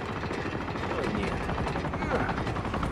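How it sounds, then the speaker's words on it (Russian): A helicopter arrives in the Uncharted 2 video game, its rotor thumping steadily and fairly loud amid continuous game noise, with a rising whine. "Вертолет прилетел, ребята, вертушка чья-то."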